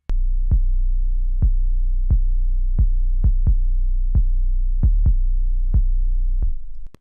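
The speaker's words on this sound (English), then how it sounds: "The dry 808 itself," A dry, undistorted 808 bass played back in Pro Tools: a sustained deep low tone with sharp attacks, struck about a dozen times in an irregular rhythm, loud and alone, then cut off abruptly.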